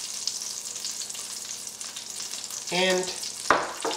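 Shrimp sauté in olive oil in a pan, a soft steady sizzle with a brief stirring scrape and a clack near the end, one spoken word over it.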